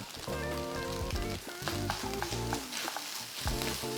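Rice and egg stir-fried in a pan with Weipa seasoning paste sizzle and crackle continuously, with spatula scrapes and stirring throughout.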